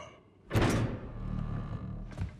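A door shuts inside the Guild Wars 2 game world, landing as one solid, close thunk followed by a low lingering rumble, with a second softer knock near the end.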